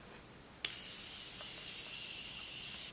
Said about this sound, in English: now I'm gonna set my face and I'm going in with the Morphe spray